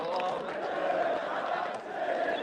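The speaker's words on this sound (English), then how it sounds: "They're still singing." Football fans at a Manchester United protest against the Glazers chant and sing together as a dense, continuous crowd roar, heard from within the crowd for a few seconds.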